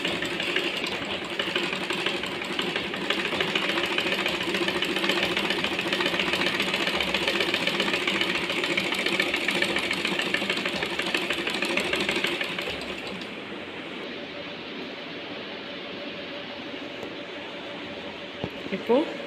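Sewing machine stitching cloth while a loop problem in the thread tension is being fixed, a steady fast mechanical whirr running for about twelve seconds, then stopping. Quieter room sound follows, with a person talking nearby.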